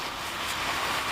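Soft, continuous fizzing and bubbling hiss close in the ear as a product dissolves a plug of earwax, in an ASMR ear-doctor roleplay, steady and without speech.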